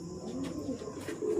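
Pigeons in a pigeon house give soft, low cooing that rolls on steadily, faint and close, with no voices.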